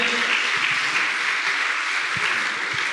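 Steady applause from a church congregation during a sermon, a dense wash of clapping that continues evenly throughout.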